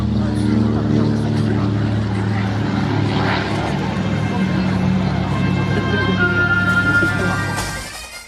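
Fieseler Storch WWII reconnaissance propeller plane flying at an air show, a loud steady engine drone with a strong low propeller hum, close and sustained, fading slightly at the end, with a voice talking over it.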